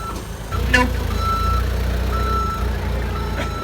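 Forklift at an auto auction: faint, evenly spaced reversing beeps over a steady low engine rumble, with the vehicle running continuously nearby.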